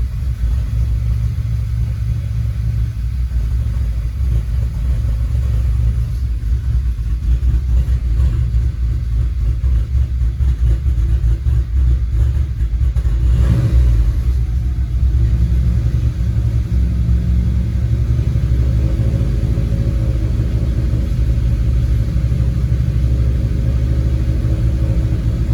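An Audi A5 engine with a new clutch runs close by with a steady low rumble, given light throttle and held below 2,000 RPM, with a brief swell in revs midway; no one speaks.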